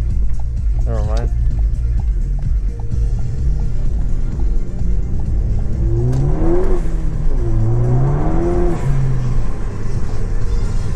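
A Ford Focus ST engine revs loudly and continuously as its tires spin, with rising and falling engine tones over a steady roar, and someone talks over it.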